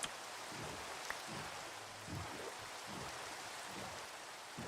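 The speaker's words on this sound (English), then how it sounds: "It's raining and I'm scared." Steady rain falls in Minecraft, a soft, even hiss of dense drops with no break and no voices.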